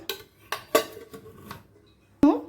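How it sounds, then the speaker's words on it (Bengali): Steel tiffin box set onto a stand inside a cooker for steaming semolina idli, several sharp metallic clinks and knocks spread over a couple of seconds, with one louder clank at the end, close by. "একটা স্ট্যান্ড বসিয়ে দিয়েছি এর উপর স্ট্যান্ডের ওপর টিফিন কোটোটা বসিয়ে দিলাম"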